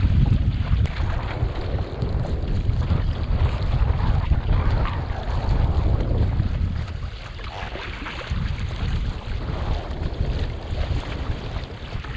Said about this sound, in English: A little 20-mile-an-hour gust there for a second.